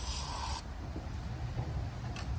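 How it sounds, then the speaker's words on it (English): Carb cleaner spray hisses in a short burst into the intake ports of a Golf GTI Mk5 engine, cuts off, then gives a brief second puff, close and fairly quiet. "I'll spray just a little bit of this carb cleaner stuff in each one"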